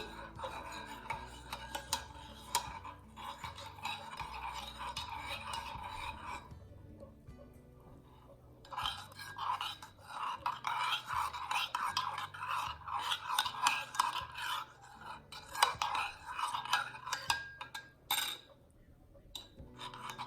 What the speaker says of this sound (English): Now you want to mix this all together nicely.